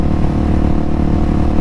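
GasGas SM700 supermoto motorcycle cruising on a freeway in fifth gear, its engine a loud, steady droning hum mixed with rushing wind, with no break over the short stretch.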